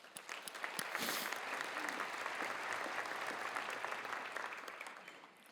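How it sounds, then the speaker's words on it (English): Applause from the audience at a women's sports hall of fame luncheon, a steady wash of many hands clapping that swells after the first second and holds before fading at the end. "Please give Mackenzie a round of applause"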